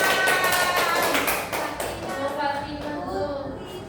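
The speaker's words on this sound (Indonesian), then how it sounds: "Tepuk tangan dong buat Fatimah." A third-grade class bursts into quick, dense clapping for a classmate during a maths lesson, the rapid hand claps loud at first and then tapering as children's voices and chatter take over.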